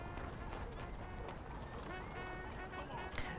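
Galloping horse hooves in Red Dead Redemption 2, a steady rapid clip-clop running under continuous speech and game ambience.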